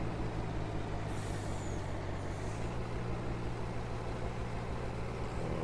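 Truck air brakes in Farming Simulator 19 on a logging route with switchbacks, a steady idling engine drone with a high hissing air-brake release near the start, then a shorter second hiss.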